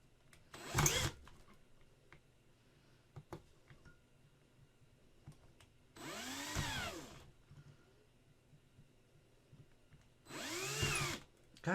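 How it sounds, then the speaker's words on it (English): Power drill driving into a resin Predator model kit during pinning, sounding in three short close whirring bursts with quiet gaps of small clicks and knocks between them. "Of course, the drill bit wants to walk again."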